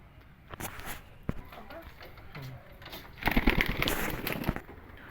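Soft, low cooing of a rain-wet Indian Ambarsariya pigeon rises briefly amid scuffling and rustling nearby, with a louder flurry of movement near the end.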